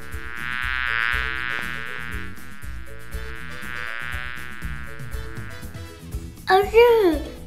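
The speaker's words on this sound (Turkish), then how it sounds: "Arı." A cartoon bee buzzes in a steady, droning hum over a bright music track for several seconds, ending as a voice speaks.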